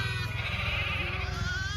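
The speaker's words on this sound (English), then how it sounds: "The grass is so tall in here that the sheep can't see their moms, the lambs. So they're just bawling." Lambs calling loudly for their mothers in a tall-grass sheep pasture, a steady stream of overlapping bleats close by with a low rumbling background underneath.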